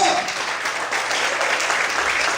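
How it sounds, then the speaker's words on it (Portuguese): An evening church congregation applauds in praise of God, a thick, sustained roar of clapping from many people, steady and fairly loud throughout, with a voice briefly at the very start. "Será que você pode aplaudir o Senhor?"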